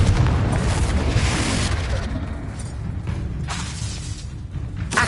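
A Confringo blasting spell explodes in Hogwarts Legacy as a loud, broad boom that rumbles on and slowly fades, with scattered crackling debris.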